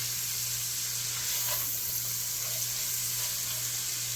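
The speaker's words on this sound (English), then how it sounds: "I'm going to add in a couple tablespoons of this butter, and I'm going to cook these for about 8 to 10 minutes" Chicken pieces cooking in a couple tablespoons of butter in a pan for a chicken fricassee give a steady, soft sizzle with faint crackles, heard alone at moderate distance with a low constant hum beneath.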